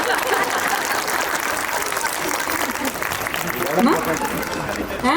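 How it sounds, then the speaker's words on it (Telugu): Audience applause at a community library inauguration, a dense steady patter of many hands sustained through the whole stretch, with a slight swell near the end. "ప్లీజ్ నాకు చప్పట్లు కావాలంటే నిజంగా."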